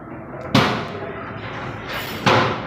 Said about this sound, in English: we can see a hand banging the back of the open door